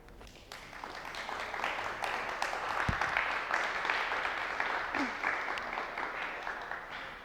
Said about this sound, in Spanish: Que sus aplausos sean para Luna y para Sonja Wimmer